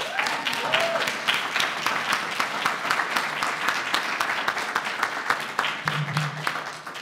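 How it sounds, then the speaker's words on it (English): Applause from an audience at an inspirational talk, a dense steady clatter of many hands clapping, loud and continuous throughout with a few sharper claps standing out near the front. "Please give a warm applause to everyone who has spoke and listened."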